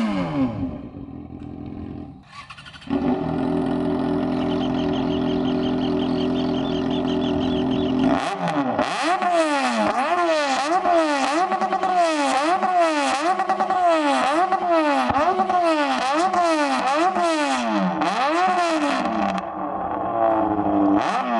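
A Yamaha XJ6 motorcycle fitted with a loud aftermarket exhaust starts up about 100 metres away, then revs repeatedly in a steady rhythmic series of sharp blips that carry clearly across the distance.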